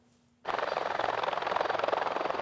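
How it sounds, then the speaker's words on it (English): Military helicopters over a mountaintop in Canada's far north: after a brief quiet moment, a loud rotor drone sets in abruptly and keeps a steady, rapid chopping pulse, unbroken and without voices. "In Canada's far north, military helicopters are bound for a mountaintop."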